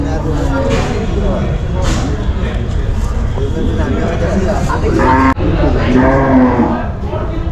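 A decorated cow at a cattle show moos loudly and close up over a busy background of crowd chatter and people talking.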